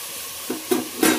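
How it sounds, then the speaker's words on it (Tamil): Tomatoes sauté in a pan for mutton biryani under a steady background hiss, with three short scraping stirs near the end. "இப்போ இது கூட தக்காளியை சேர்த்து நல்லா வதக்க போகிறோம்."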